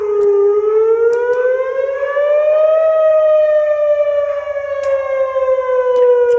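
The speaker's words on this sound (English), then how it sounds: "They usually do that when they're calling the volunteer fire department." A loud civil defense style fire siren calls out the volunteer fire department. It holds one long, steady wail that slowly rises in pitch and then sinks again, sounding continuously with no talking.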